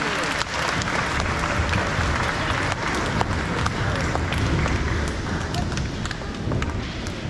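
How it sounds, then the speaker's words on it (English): Parents and students applaud at the Bradford Elementary awards ceremony, a loud, crowded stretch of continuous clapping with scattered sharp individual claps and some voices mixed in. "Let's give her a round of applause for all the hard work and time she put into everything."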